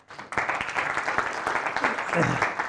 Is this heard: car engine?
no